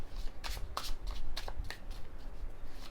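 Tarot cards are shuffled by hand in a steady run of soft, quick riffling bursts, close and quiet with no talking.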